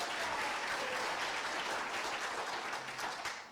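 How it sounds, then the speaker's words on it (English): Audience applause at a high school summer math-science-technology institute's final presentations, a steady wash of many hands clapping that holds for several seconds before easing off slightly at the end. "So another round of applause."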